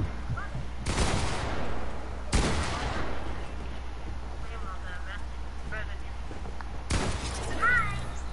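Video game gunshots come as three loud, broad blasts spaced several seconds apart, each with a brief rumbling tail, over a low steady hum with faint chirping sounds in between.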